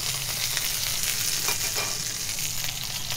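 Fish skin fries in a pan with a loud, continuous sizzle and crackle that stays even throughout, close up and free of any talk.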